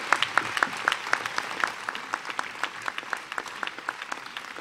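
Audience at a Brown University opening convocation applauding a speaker, a moderate burst of rhythmic clapping from a large room that gradually thins out over several seconds.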